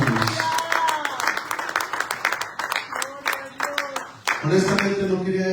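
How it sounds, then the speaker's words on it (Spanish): A church congregation applauds during a Spanish-language sermon, a burst of close, uneven hand claps mixed with voices calling out, sustained across the moment. "Denle un aplauso al Rey"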